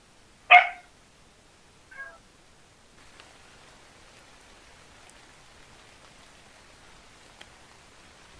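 The dog Callie gives one sharp, fairly close bark, followed a moment later by a fainter, shorter yelp, then only quiet background hiss.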